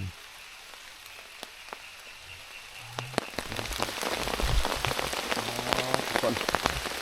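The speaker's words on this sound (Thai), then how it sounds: "ฝนตกหนักแล้วมื้อนี้" Heavy rain falls at night in a deep forest, starting as faint scattered drops that swell into a dense, steady patter on surfaces after a few seconds.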